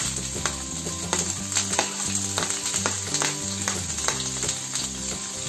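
Loud, continuous sizzling of ginger frying in oil, with stirring scrapes and occasional clinks against the pan.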